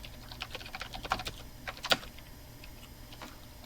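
Computer keyboard typing: a short run of light, irregular key clicks with a couple of sharper taps, close but fairly quiet, with no voices.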